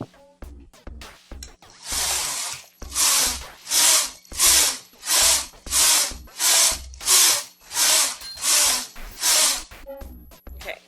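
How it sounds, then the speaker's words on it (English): The carriage of a Brother KH-930e knitting machine swept back and forth across the needle bed, giving about a dozen loud, rhythmic whooshing and rattling passes, each lasting around half a second, with a few clicks before them. "then just bring the carriage straight across."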